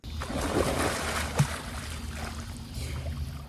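Someone slips on slick algae and falls into shallow city creek water with an underwater camera, a sudden close splash and clatter amid continuous flowing water and sloshing, with a sharp knock partway through.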